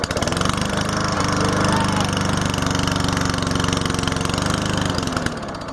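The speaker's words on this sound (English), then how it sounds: "That's how you start a lawnmower." A small gasoline lawnmower engine runs steadily and loud in the foreground, a chugging mid-pitched drone that holds for several seconds before slowing and cutting out near the end.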